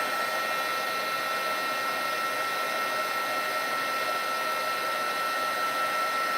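A craft heat tool blows steadily to melt embossing powder on paper mittens, a constant whirring, hissing hum at close range with no breaks or voices.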